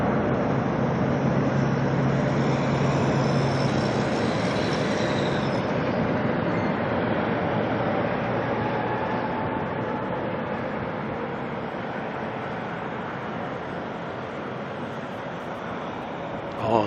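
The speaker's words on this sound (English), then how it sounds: "Reverse thrusters" An airliner landing at Auckland Airport with reverse thrust: a steady, broad distant roar that swells early and slowly eases off, with no clear talk over it.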